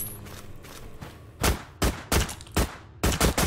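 Gunfire at zombies in a Minecraft-styled Call of Duty Zombies game, with loud separate shots and short bursts after a quieter opening, then a final volley of three close shots.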